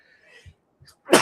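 A single sudden sneeze bursts out close and loud at the very end, after a moment of near silence with faint breathy sounds.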